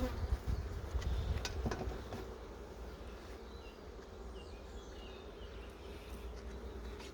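Honeybees hum steadily at a strong open hive during a colony inspection, a dense, close, continuous drone that is louder at the start and then settles.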